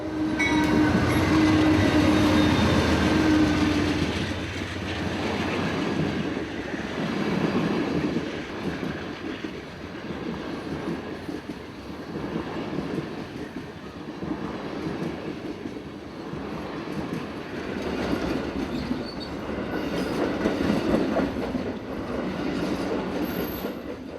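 An Amtrak passenger train rolls past at length, wheels clacking rhythmically on the rails with a rumbling roar, opening with a sustained horn blast, in North Florida.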